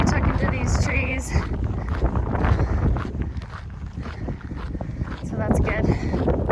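Wind gusts buffet the microphone on a Continental Divide Trail path among trees, a loud rushing roar that eases slightly midway and swells again, with a person talking over it.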